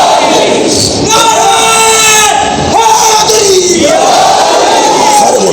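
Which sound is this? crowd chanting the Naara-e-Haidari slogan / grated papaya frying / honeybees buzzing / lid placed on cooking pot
crowd chanting the Naara-e-Haidari slogan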